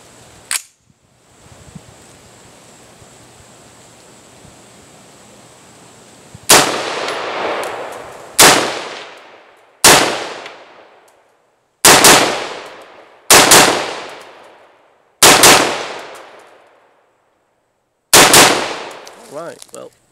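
Six sharp gunshots fired through an ALG Defense QMS mil-spec trigger, each a loud crack with a decaying ring, spaced about one to three seconds apart after a quiet lead-in with a brief click.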